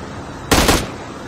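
A short, close burst of rapid gunfire from a gun in Call of Duty Mobile cracks out loudly for a fraction of a second amid quiet game background.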